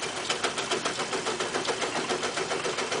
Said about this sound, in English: Just listen to the lathe hum